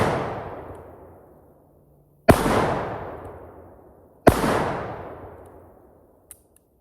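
Three loud, sharp gunshots from a Colt Python revolver, each with a long ringing decay, fired about two seconds apart with no talking.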